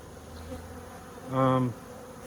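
A bee gives a single brief close buzz over a faint background hum at a hive damaged by maggots and beetles.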